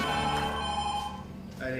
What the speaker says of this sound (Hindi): अरे नहीं, ये बॉस का फोन है.